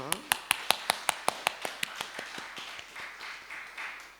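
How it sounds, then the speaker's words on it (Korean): A congregation at a dawn church service claps in thanks: a dozen sharp, evenly spaced claps in unison ring out close and loud, then fade into looser scattered clapping with voices murmuring underneath. "좋으신 하나님께 우리 감사의 박수를 올릴까요?"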